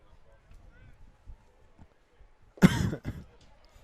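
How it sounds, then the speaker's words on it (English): A single loud, sharp cough bursts out close by during a night baseball game, standing out against a quiet, murmuring background with low chatter before it. "Pardon my coughing."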